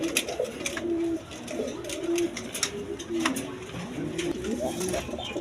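Pair of shirting pigeons in a loft cooing in repeated low, throaty phrases close by, with a faint voice and light rustling underneath.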